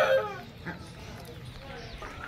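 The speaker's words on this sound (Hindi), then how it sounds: "इस साइड पे हमने मुर्गियाँ रखी हैं।" Hens cluck softly and intermittently in the background while a person talks over them, with farmyard noise throughout.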